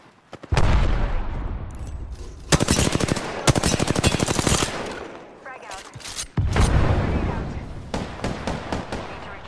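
Gunfire in a shooter video game hammers out loud, rapid automatic bursts, several long volleys broken by short pauses and sharp single cracks, with voices faintly underneath.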